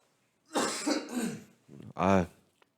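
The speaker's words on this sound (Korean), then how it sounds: "요즘엔 기침하기도 무섭습니다" A few close, harsh coughs and throat-clearing bursts, followed after a brief pause by a short voiced sound.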